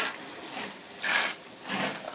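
Water poured onto potting soil around freshly planted rosemary, lavender and sage cuttings, a soft continuous splashing stream that swells twice as the watering passes over the pot, close and alone.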